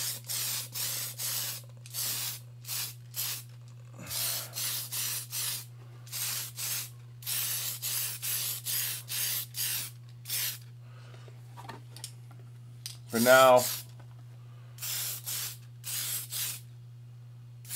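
Aerosol can spraying white paint over a part, short close hissing bursts in an uneven rhythm over a steady low hum, with one brief whistling squeak midway and a few quiet spoken words.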